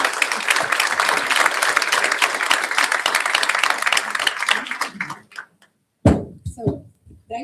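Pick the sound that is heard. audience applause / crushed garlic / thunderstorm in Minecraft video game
audience applause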